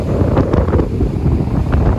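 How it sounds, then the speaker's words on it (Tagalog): Strong wind buffets the microphone on the beach at Jizan, a steady loud roar with gusting rumble and possible surf underneath, no voices. "malakas ang hangin"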